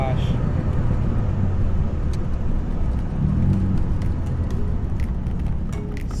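Inside a twin-turbo Mazda RX7 with a VG30DETT engine, a steady, loud engine and road drone continues under talk from the occupants.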